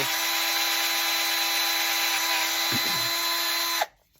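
A power drill whirs steadily and loudly for about four seconds while re-drilling holes in glued wood, then cuts off abruptly, leaving near silence.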